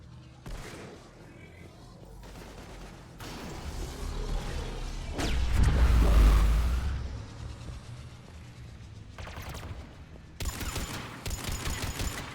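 Mass Effect 3 combat with scattered gunfire and a swelling rumble midway, then rapid automatic bursts close and loud toward the end.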